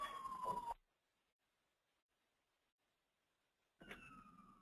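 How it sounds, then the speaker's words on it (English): Emergency vehicle sirens wailing outdoors across from a fire department in White Plains, New York, heard in two bursts separated by a few seconds of near silence, each a falling tone of moderate loudness. "Those sirens you hear are here in White Plains, New York"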